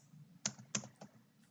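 Three crisp keystrokes on a computer keyboard, spaced out and close by, with no talking.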